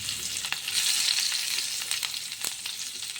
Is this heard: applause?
no